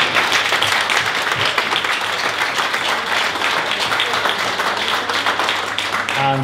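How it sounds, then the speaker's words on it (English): Sustained audience applause at a May 2022 myHRcareers evening event honouring Sanjay Lobo MBE, dense steady clapping from a room of people filling the whole stretch at even loudness. "I just want to give another quick round of applause for Sanjay"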